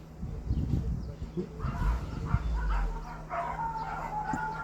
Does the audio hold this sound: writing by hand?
no